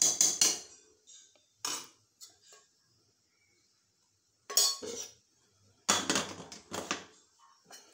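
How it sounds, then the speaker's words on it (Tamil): Pressure cooker lid closed over a mutton and coconut milk curry: several sharp metallic clanks and clatters come in short bursts, separated by quiet gaps. "இப்போ மூடி வச்சு மூடிடும்."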